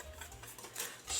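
A whisk scrapes and taps briskly against a bowl while mixing dry ingredients for onion nuggets, quiet, close and brief, with no talking.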